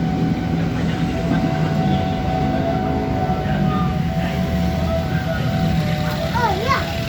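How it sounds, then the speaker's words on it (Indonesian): A train passes at a distance, a steady rumbling roar running the whole time, while people chat nearby and a horn-like warble rises near the end. "Kereta tuh, suara kereta api."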